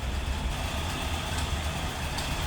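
A 1966 Cadillac Eldorado convertible with a 429 V8 idles quietly with its hood open, giving a low, even rumble that holds steady without revving, with no talk.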